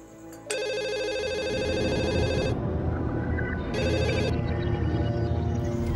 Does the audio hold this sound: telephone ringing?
yes